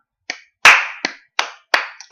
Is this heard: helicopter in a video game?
no